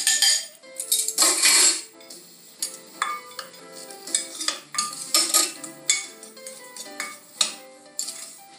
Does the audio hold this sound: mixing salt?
yes